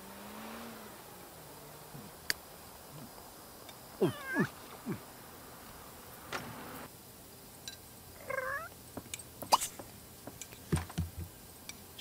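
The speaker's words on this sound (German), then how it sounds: "Schau, die Katze möchte auch was, oder wie?" A cat meows in The Sims 3 game, a few short rising and falling calls spread over several seconds against quiet game ambience and soft background noises.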